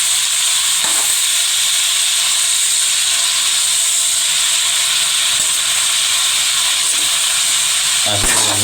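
Baguio beans and carrots sautéing in a pan, giving a steady, loud broadband sizzle and hiss that runs unbroken throughout, with a few faint clinks and a brief knock near the end.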